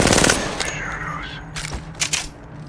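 A short burst of rapid automatic gunfire in the video game Apex Legends opens loudly, followed by quieter scattered shots and faint game sounds.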